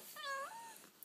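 A single clear cat meow rises and then falls, close and fairly quiet against a silent background.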